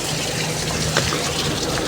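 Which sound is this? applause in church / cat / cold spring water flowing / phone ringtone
cold spring water flowing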